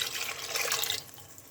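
Water poured from a normal mug into a cooking pan of chicken keema, a brief close splashing pour that trails off after about a second.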